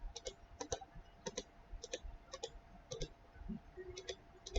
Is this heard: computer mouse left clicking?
yes